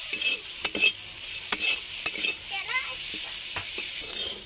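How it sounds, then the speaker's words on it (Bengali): Small shrimp tossed and fried in a wok give a continuous hiss of sizzling, broken by several sharp clacks of a spatula stirring against the pan, close up with no voices. "এবার আর একটু নেড়ে চেড়ে ভেজে নামিয়ে দেবো।"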